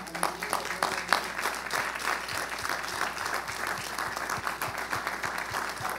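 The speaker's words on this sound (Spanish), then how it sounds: "Si usted lo ama, déle un aplauso fuerte." A church congregation applauds loudly after a sermon, dense clapping with a steady rhythmic beat picked out through it, heard from a distance and without voices.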